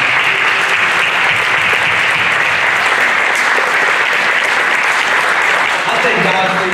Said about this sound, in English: Come on and clap your hands for Jesus